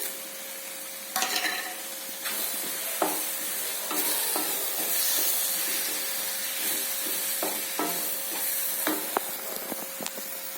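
Ridge gourd and other curry ingredients sauté in hot oil, a steady sizzle broken by repeated scraping stirs and clinks of a spoon against the pan, close and moderately loud with no talking.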